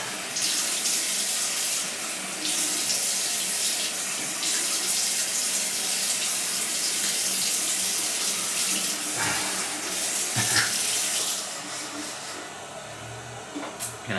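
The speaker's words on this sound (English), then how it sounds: "gonna rinse up real quick here" A tap runs steadily while a razor is rinsed under it, giving a continuous close splash that shifts slightly as the blade moves through the stream and eases toward the end.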